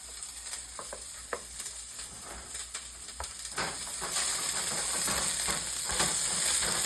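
Chopped onion goes into hot oil in a wok and sizzles with a steady, hissing fry that builds louder over several seconds, dotted with faint clicks and taps, with no voices.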